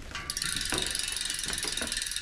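Rapid, even ratchet clicking from the freewheel of a bicycle rear hub on an NS Bike Surge Evo wheelie bike, close and fairly quiet, continuous with no talk.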